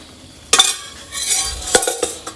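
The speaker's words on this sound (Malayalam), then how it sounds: "എന്നിട്ട് നമ്മൾ ഈ ചിക്കൻ ഇതിലേക്ക് മിക്സ് ചെയ്ത് കണ്ട് എടുക്കുക" Chicken pieces are stirred into a gravy in a pan: a few sharp spoon scrapes and clinks against the metal over a faint, low simmer.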